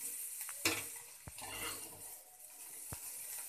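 Onions frying in hot oil for a gravy with a soybean, potato and pea curry. A soft sizzle runs throughout, broken by a few sharp scrapes and clinks of stirring close by, with no talking.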